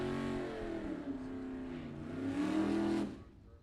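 Mustang drag race car revving at a drag strip, engine pitch rising and falling through a couple of throttle blips, loud and close, with no talk.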